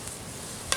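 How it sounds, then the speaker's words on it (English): Red beans and rice stirred in a Dutch oven set low over an open fire, a soft scraping stir under a steady low simmering sizzle, with a brief sharper scrape near the end. "Give that a stir"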